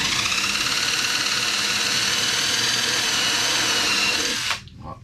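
A power drill with a 3.6 mm bit bores a screw hole in whisky barrel wood, whining loud and steady for over four seconds before it stops abruptly.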